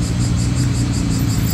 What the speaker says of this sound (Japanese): なんだ、ハーレーか